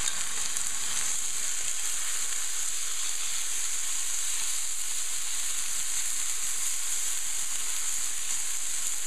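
Chopped tomatoes frying and caramelizing in a pan make a constant bright, hissing sizzle, loud and even throughout with no pauses.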